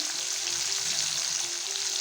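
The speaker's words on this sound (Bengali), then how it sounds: "এগুলোকে ভেজে নিই, তারপর দেখাচ্ছি। মাংসটা ভাজা হয়ে গেছে" Continuous close sizzle of chicken frying in a little oil, an even crackling hiss with a faint low hum underneath.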